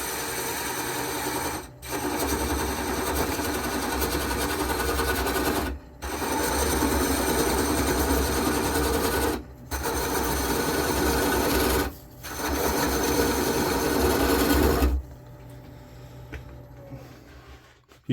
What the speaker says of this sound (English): I'll just show you on the old lathe.